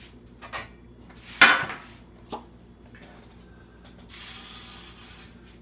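A short hiss of oil sprayed from a can over a leftover meatloaf and cheese dish, close and bright, with a few kitchen clatters before it and a softer hiss near the end.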